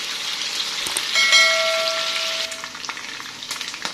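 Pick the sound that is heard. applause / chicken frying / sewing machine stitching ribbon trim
chicken frying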